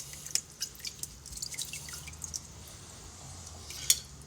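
Rice is rinsed with water in a strainer set over a second container, making soft trickling drips and light splashes with faint clinks, quiet and close.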